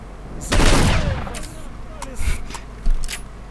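Gunfire in the video game S.T.A.L.K.E.R.: Shadow of Chernobyl comes as one loud, close blast with a long ringing tail, followed by two sharper, smaller shots after a pause.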